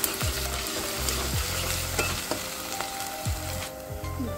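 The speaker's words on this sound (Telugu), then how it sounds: "అల్లం వెల్లుల్లిగడ్డ పేస్ట్ వేసుకుందాం. వేసుకొని పచ్చివాసన పోయేంత వరకు ఫ్రై చేసుకోవాలి." Ginger garlic paste sizzling steadily in a hot pan, with a spoon scraping and stirring in repeated sweeps, close and alone with no talking.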